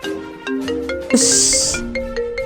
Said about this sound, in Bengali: এত রাত্রে আবার কে ফোন করলো?